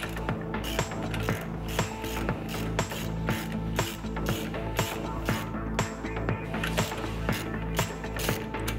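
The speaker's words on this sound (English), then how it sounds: "we can loosen the baffle plate's threaded connections" A ratchet loosening the threaded connections of a baffle plate on an explosion isolation slide valve under repair: rapid, rhythmic metallic clicking strokes repeat steadily and close up, with no talk.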